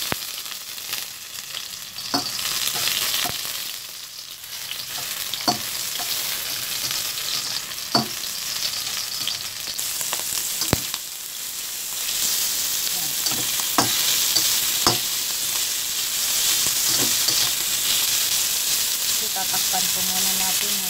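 Pork for Bicol Express sizzles and fries in a pan while being stirred. It is a steady, loud hiss broken by periodic clanks of the utensil against the pan.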